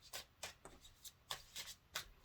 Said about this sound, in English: It shuffles very nicely.